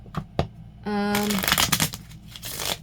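Tarot cards riffle in a quick, crisp shuffle close by, a rapid fluttering burst followed by softer taps and slides, with a short tone at the start.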